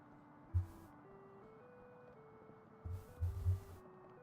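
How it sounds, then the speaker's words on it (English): Railroad crossing signal bells in the game Yakuza 3 ring as a steady, repeating electronic tone, with a few low thumps in the background. "Is that an ice cream truck? Oh, it's just railroad crossing."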